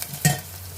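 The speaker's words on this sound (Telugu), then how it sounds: "ఇది ఇలా కొంచెం లైట్గా వేగాలండి." Curry leaves frying in hot oil for a fish curry give a quick soft crackle and stir, one brief burst over a faint steady sizzle, close and quiet.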